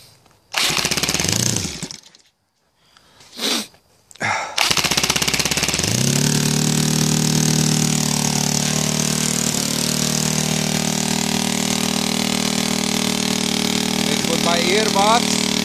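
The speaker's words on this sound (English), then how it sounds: "this engine is really noisy. Okay, I need to give a little bit more throttle here." A YS 160 DZ model glow engine converted to CDI ignition runs loud and steady, revving up after a couple of brief starts and stutters, then holding a strong, buzzing drone close by.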